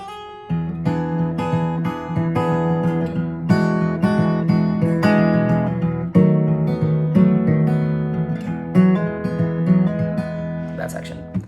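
Acoustic guitar plays a steady, melodic bridge-like second section of an instrumental, picked notes ringing with sustained chords, loud and close, with no talking.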